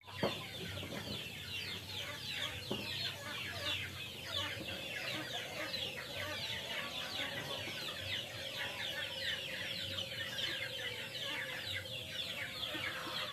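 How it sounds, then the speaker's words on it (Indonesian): Chickens in a semi-free-range pen about 7 by 9 meters cluck and chatter on a farm in the morning, a soft, steady flock murmur of overlapping calls over a constant background hum. "Ini cukup luas untuk ayam-ayam beraktivitas dan mengurangi stres pada ayam."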